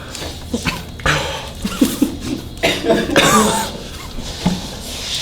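A few sharp coughs, close and loud, amid muffled voices and some laughter.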